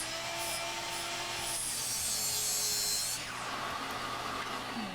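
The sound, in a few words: miter saw cutting wood pieces to length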